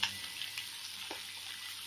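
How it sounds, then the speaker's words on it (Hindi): French beans drop into a frying pan of mixed vegetables for a Punjabi winter sabzi, a brief soft clatter at the start settling into a faint, steady sizzle. "अब हम डालेंगे फ्रेंच बीन्स"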